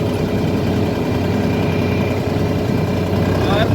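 A SANMAN 6000 tractor engine runs steadily during land preparation for maize, a continuous low rumbling idle heard up close without a break.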